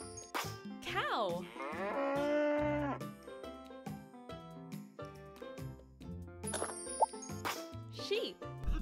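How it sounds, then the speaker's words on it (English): A cow gives one long, loud moo lasting about two seconds amid bright cartoon music and sound effects in a children's animal-learning game. "Cow."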